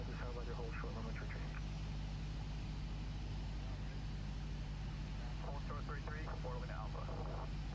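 Steady engine drone of a small propeller airplane in flight, with people talking over it now and then.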